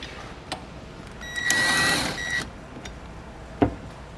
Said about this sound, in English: So I'm using a 5mm hex bit in order to tighten down those bolts.